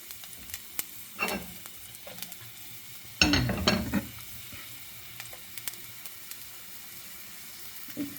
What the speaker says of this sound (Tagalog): Maamoy na sa kapitbahay ang ating ginisang bawang at sibuyas.